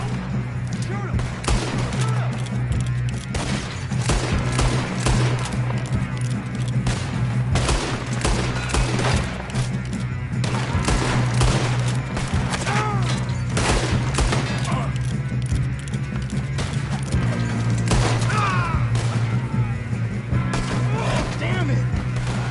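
Rapid gunfire crackles through a shootout in Red Dead Redemption 2, with repeated sharp shots and bursts over a constant low hum, and voices talking in between.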